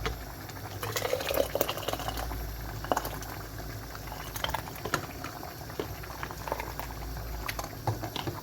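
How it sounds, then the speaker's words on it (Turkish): Boiling liquid poured from a cezve into disinfected half-litre jars for winter menemen, a steady bubbling, trickling wash with soft splashes and pattering drips, close and continuous at moderate level. "şöyle yarım litrelikleri bakın şöyle cezve ile ekliyorum"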